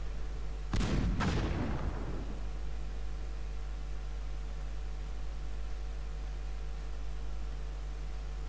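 Artillery in the Cossacks 2 battle game fires two quick booming shots in close succession. A rumbling tail follows and fades into a steady background hum with no voices.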